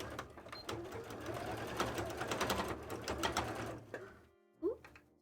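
A sewing machine stitching elastic onto a cosplay costume runs in a fast, steady mechanical whirr for about four seconds, then stops with a brief clunk; a faint voice is heard near the end.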